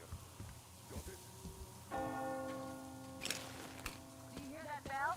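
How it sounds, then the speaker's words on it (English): A bell tolls in the video game Metro Exodus, a sustained ringing tone that swells at mid-clip and hangs over ambient game noise, with faint background sounds around it. "Do you hear that bell?"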